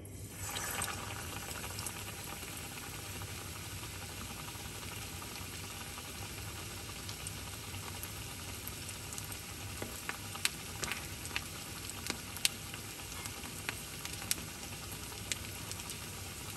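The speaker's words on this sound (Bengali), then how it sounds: "ফ্রেন্ডস দেখো আমার তেলটা গরম হয়ে গেছে, এখন আমি মাছটা ছেড়ে দেবো।" Fish sizzling and frying in hot oil at a dhaba-style Old Delhi street food stall, a steady dense crackle running throughout with scattered sharper pops, close and fairly loud with no talk.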